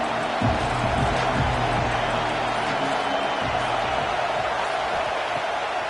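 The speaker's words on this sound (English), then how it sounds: "These fans are going absolutely nuts." A loud home crowd roars steadily at an indoor college football game, a dense wall of cheering and noise sustained for several seconds without a break.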